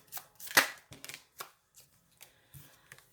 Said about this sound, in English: You've seen me shuffling these.